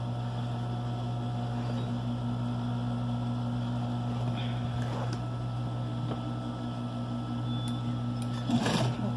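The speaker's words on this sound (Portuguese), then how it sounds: "Vou costurar aqui em cima." A sewing machine stitches around the edge of a knit-strip rug in a steady, continuous mechanical hum with a constant low drone, a few faint clicks and a brief louder rattle near the end.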